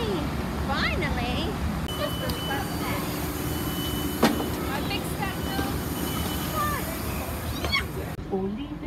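A Great Western Railway train at a station, with a steady rumbling hum, background commotion and a sharp clank partway through, while several people talk over it.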